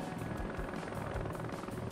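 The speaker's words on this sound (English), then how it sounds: "my scout helicopter is amazing" Scout helicopter in the video game Heliborne, armed with a front 23mm cannon and rocket pods, carrying troops over Afghanistan: a loud, steady rotor drone with low thumping chop filling the whole moment, no talk over it.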